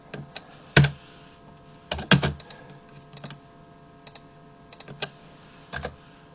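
Irregular clicks of computer keys being pressed, a few sharper keystrokes among lighter taps, with no talking.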